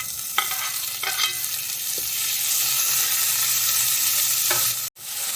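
Chopped tomatoes frying with golden-browned onions for tomato rice, a constant bright sizzle with several spoon scrapes against the pan and a brief clunk near the end.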